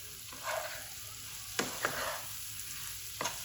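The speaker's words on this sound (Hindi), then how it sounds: "अब यहाँ पे ये जो मैं शिमला मिर्च की कटिंग की है ये इसके अंदर डाल देंगे" Chopped capsicum frying over low heat in a pan for a liver dish, a faint continuous sizzle broken by a few sharp stirring scrapes and clinks, close by with no talking.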